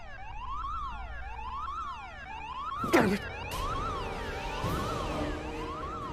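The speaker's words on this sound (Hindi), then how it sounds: "ये अलार्म कैसे बज रहा है?" A hotel fire alarm wails in a steady rising-and-falling electronic tone, loud and continuous, with a sharp bang and bursts of commotion cutting in midway.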